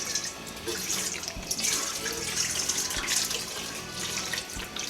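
Steady running tap water splashing into a sink as fish are rinsed under it, continuous and close with no talking.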